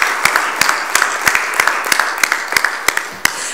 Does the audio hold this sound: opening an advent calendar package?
no